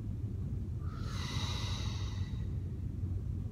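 A single long exhale through the nose during a floor triceps exercise with weights, a breathy hiss rising after a moment of steady background noise and fading out after about a second and a half.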